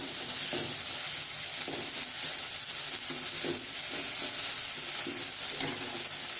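Chopped ridge gourd sizzles steadily in a hot pan while a spoon stirs it, the scraping strokes coming in a loose repeating rhythm over a constant close frying hiss.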